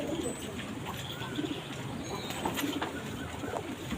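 Pigeons coo softly and repeatedly inside a loft of golden-eye pigeons, close and steady under a constant background hiss, with faint chirps now and then.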